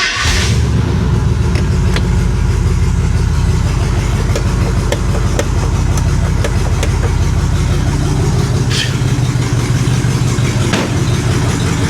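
A 1970 International D1000 truck, old and long abandoned, idles steadily and loudly close by after starting, a continuous low rumbling engine note with faint extra rattles and no talk.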